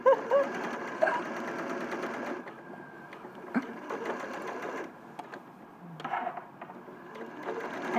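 A sewing machine stitches fabric with a steady whirring, mechanical rattle that runs throughout, shifting in speed and intensity, close and fairly loud with no talking.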